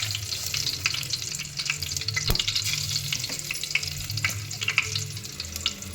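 Whole spices such as fennel seeds, bay leaf and cardamom sizzle steadily in hot oil, a dense close crackle with stirring and one sharp clack partway through, no voices.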